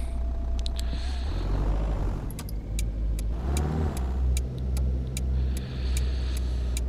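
A simulated Land Rover Velar engine in Euro Truck Simulator 2 drones steadily while driving through Plymouth, rising and falling in pitch as it accelerates, with faint regular ticking over the continuous hum.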